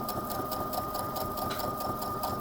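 A sewing machine runs steadily, stitching a seam down the right side of lined-up fabric with the needle set to the far right position; a fast, even mechanical whir with a constant hum, close and continuous.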